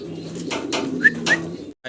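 Pigeons at a fancy pigeon farm give a few soft, low coos close by, with a couple of brief wing flutters, before the clip cuts to near silence at the end.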